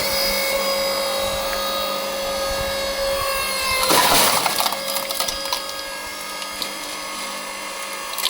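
An AL-KO LSH 520/5 electric horizontal log splitter hums steadily while forcing apart a forked oak log. Midway through, a loud burst of cracking and splintering wood rings out, then the motor carries on humming.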